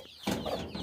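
Chickens in a coop give a brief burst of clucking close by, a quick cluster of sounds less than a second long.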